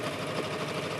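A Singer sewing machine runs a quick line of stitches along a cotton T-shirt hem, giving a steady, fast mechanical whir and rattle with no pause, close and fairly loud, without speech.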